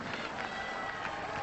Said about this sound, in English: now he's enjoying the acclaim of the crowd here